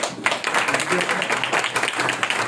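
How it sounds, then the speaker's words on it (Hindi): Congregation clapping during a Sunday church worship service, a quick burst of many hands clapping at a brisk rhythm, fairly close and fairly loud, mixed with a murmur of voices. "आजकल ताली बजाना भूल गए क्या?"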